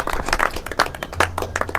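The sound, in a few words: audience applause at diploma ceremony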